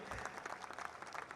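A crowd at an outdoor groundbreaking ceremony for a road upgrade claps in a brief, fairly faint burst of scattered applause heard from a distance.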